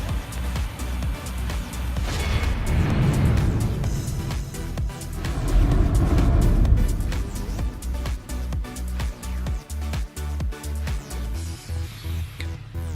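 A 2015 Range Rover Supercharged on a short drive back to a parking space, with steady low engine and road rumble that swells mid-drive and then settles into lighter, uneven rolling noise.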